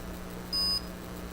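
A MikroTik RouterBOARD router gives a single short, clear electronic beep on boot, a steady tone lasting about a quarter second over a low background hum.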